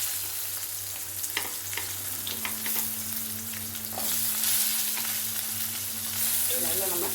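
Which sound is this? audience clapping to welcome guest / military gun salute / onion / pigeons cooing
onion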